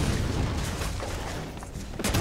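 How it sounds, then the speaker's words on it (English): Heavy cannon fire in the Xbox One MOBA Gigantic, a dense rumbling barrage of booms that runs steadily through the whole stretch, loud and close, with a sharper blast near the end. "Get the cannon going."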